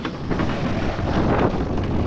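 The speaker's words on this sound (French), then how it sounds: "attention les oreilles pour le vent" Strong wind roars across the microphone in a continuous, loud buffeting rush, with the churn of a boat moving through water beneath it.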